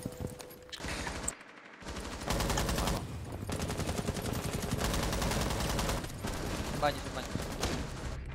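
Rapid bursts of shotgun fire in a video game crackle loudly in dense volleys, with brief pauses between clusters of shots.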